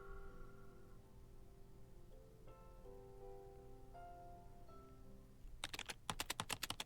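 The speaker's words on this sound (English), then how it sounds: "the sound of the keyboards are driving me nuts" Keyboard typing breaks out as a quick burst of crisp clicks and taps near the end, following a stretch of soft sustained musical tones with no talk.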